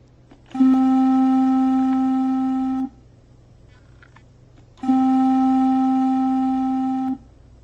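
Two steady, pure flute-like notes, each held a little over two seconds and separated by a short pause, clear with no talking.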